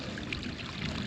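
Water trickles and pours steadily outdoors as rain from Tropical Storm Harold runs off, a continuous close gurgling flow with no voices.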